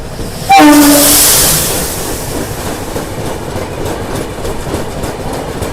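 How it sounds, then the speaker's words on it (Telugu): Guntur Rayagada Express passes close by, opening with a loud blast of its horn that fades into a sustained roar and steady rail clatter, with no voices present. "గుంటూరు రాయగడ ఎక్స్ప్రెస్ ట్రైన్ ఇది"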